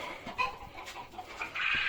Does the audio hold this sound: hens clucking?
yes